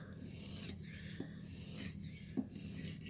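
A knife edge drawn across a sharpening stone for a mirror polish, the burr folding over, gives a steady gritty rasp that runs continuously for a few seconds, with a couple of brief louder scrapes.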